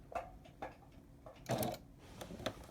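Sewing machine stitching quilt binding, a few short, quiet bursts of mechanical whirring and ticking in an uneven rhythm, heard close with no talk.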